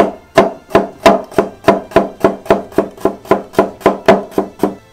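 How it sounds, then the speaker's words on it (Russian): A knife slices a carrot into strips against a board in a quick, even rhythm, about fifteen crisp strikes close by, with no talking. "Сначала морковку нарезаем на пластинки."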